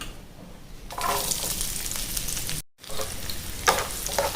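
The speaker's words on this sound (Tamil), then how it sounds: "நல்லா வதக்கிடுங்க. வெங்காயம் இந்தளவுக்கு வதங்கினா போதும்." Steady sizzling of onions sautéing in hot oil for mutton chukka, with some stirring scrapes; a brief silent gap midway before the crackling resumes.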